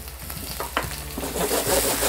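Shrimp sizzling and frying in a pan with browned garlic and the white parts of scallions, a steady close hiss with brief stirring clatters that grows louder toward the end, no talking.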